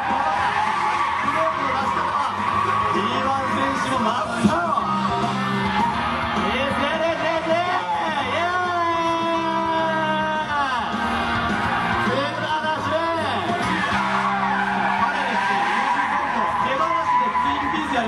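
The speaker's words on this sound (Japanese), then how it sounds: "まずはワンハンドドリフトを見せてもらいました" A Mitsubishi Lancer Evolution Wagon GT drifts one-handed at a sports meeting in Yokohama, with loud, sustained tire squeal and engine noise running throughout. Commentators talk excitedly over it.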